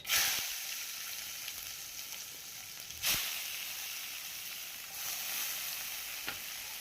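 Steady bright sizzling of mustard seeds and cumin in hot oil, a continuous crackling hiss with a few louder spits and pops as the seeds splutter in the pan.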